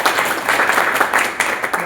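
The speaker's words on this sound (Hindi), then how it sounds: "इनके लिए तालियां" Brief burst of clapping from an audience at a Hindi-language competition event honoring a student, dense and continuous for a couple of seconds.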